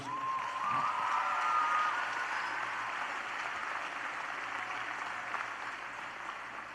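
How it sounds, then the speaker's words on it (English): Audience applause at a 2018 high school graduation ceremony, a steady, moderately distant wash of clapping in a large hall, peaking early and gradually thinning out. "Let's give them all a round of applause, please."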